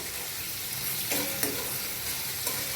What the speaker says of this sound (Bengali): হাতা দিয়ে আমি একটু হালকা করে নেড়ে নিচ্ছি